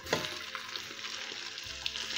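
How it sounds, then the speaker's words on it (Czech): Chopped onion fries in rendered bacon fat in a pan, giving a steady, close sizzle with small pops and a few stirring scrapes and no talking. "Na vyškvařenou slaninu přidáme nakrájenou cibulu"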